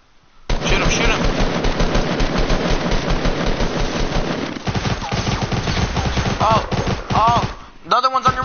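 Rapid automatic gunfire from the Fortnite video game rattles continuously and loudly, then breaks into shorter bursts and single shots near the end.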